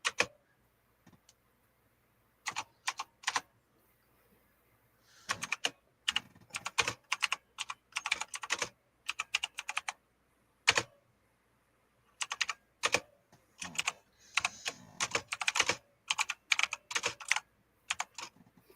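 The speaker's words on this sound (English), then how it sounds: "I think you guys can hear me typing." Keyboard typing in irregular bursts of rapid clicks, separated by short pauses, fairly close and clear with no voices.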